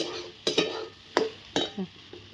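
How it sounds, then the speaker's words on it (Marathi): Chili garlic kharda is worked on a hot griddle: a few sharp, close scraping and clinking strokes of a utensil against the metal, with quiet gaps between them. "आता चपात्या झाल्या ती तव्यात छान असा खरडा करून घ्यायचा"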